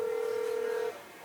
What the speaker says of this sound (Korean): 직접 한번 전화를 한번 연결을 해볼게요